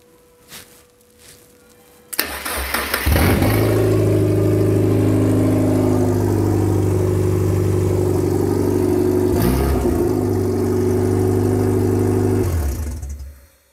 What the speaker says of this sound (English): when I turn the key, we get spark, we get fuel, we get cranking,